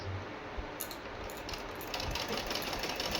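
A sewing machine stitching the neckline of a suit, running in a fast continuous mechanical whir that picks up slightly in loudness, nearby, with no talking.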